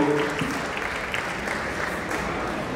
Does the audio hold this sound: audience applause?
yes